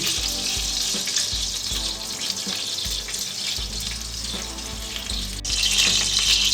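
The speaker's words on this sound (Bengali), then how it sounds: "মাংস ভাজার বাকি তেলে এবার আমি দিয়ে দিচ্ছি 2 টেবিল চামচের মতন ঘি।" Ghee sizzling as it goes into the hot oil left from frying chicken in a pan, a loud, dense, steady crackle throughout with no voices.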